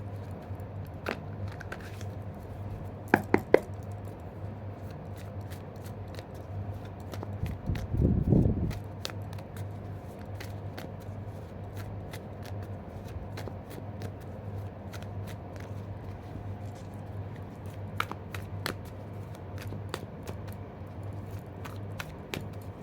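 A tarot card deck being shuffled, soft papery riffles and taps with one brief louder burst of card handling midway, faint against a steady low hum, no talking.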